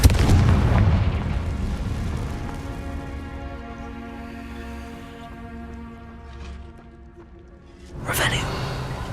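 Confringo fire-blast spell in the Hogwarts Legacy video game, a heavy rolling boom that decays into a sustained rumble, then a second crackling burst near the end, loud and close.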